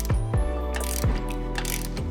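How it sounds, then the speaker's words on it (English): A ratchet works loose the lower shock bolt on a Toyota Tacoma, giving several quick bursts of close, loud clicking in an uneven rhythm with no one talking. "Let's go ahead and take out this lower shock bolt."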